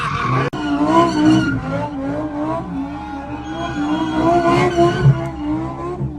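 Tires squeal long and loud as a car skids and drifts near a BMW, sending rubber chunks flying; the screech rises and falls with engine revving nearby.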